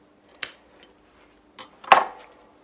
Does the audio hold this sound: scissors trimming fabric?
yes